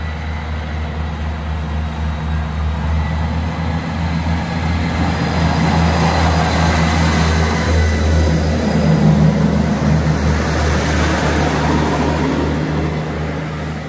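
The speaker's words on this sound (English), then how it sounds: "So watch this train leave" A steam locomotive, Tangmere, rumbles steadily in the distance on the Settle–Carlisle line near Dandry Mire Viaduct, its low drone swelling slightly and then easing as it moves away.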